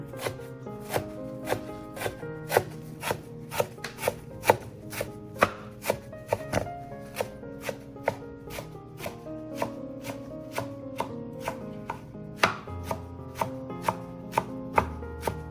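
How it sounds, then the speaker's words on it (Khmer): A knife chops herbs on a board in a Cambodian kitchen, with about thirty sharp, regular strokes in a quick even rhythm, close and clear with no talk. "ខេឥឡូវយើងហាន់"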